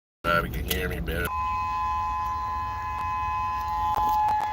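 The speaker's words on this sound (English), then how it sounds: "The siren's going off. I got T-minus 1 hour. I'm at Pipeline." A civil defense siren sounds a tsunami warning at Pipeline Beach on Hawaii's North Shore, a steady loud wail that holds without a break after a short burst of muffled noise.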